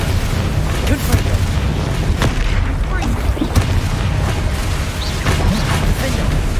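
Spell explosions from Confringo and Bombarda in the Hogwarts Legacy video game boom and burst repeatedly over dense, noisy combat sound, with a voice shouting throughout.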